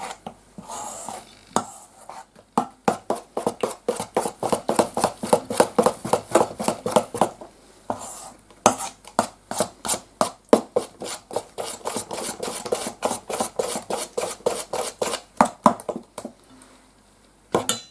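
A spoon stirs kefir batter with butter in a bowl for an apple mannik, scraping in a quick, steady rhythm of rasping strokes up close, with brief pauses between runs.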